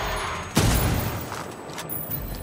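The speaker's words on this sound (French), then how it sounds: "Frag lancé." A frag grenade bursts in a Predator video game, a sudden loud blast about half a second in that rolls into a rumbling tail over continuous background game noise.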